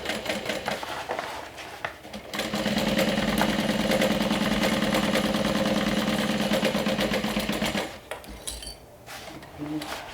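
Sewing machine stitching along a curve during final assembly of a Wayfarer 2.0 style bag, a steady, loud mechanical whir running for about five seconds with rattling between pauses.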